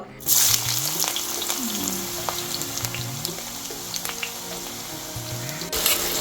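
Beef tenderloin dish ingredients sautéing in a pan, a steady sizzle and frying hiss with utensil scrapes and small clinks throughout, close and fairly loud.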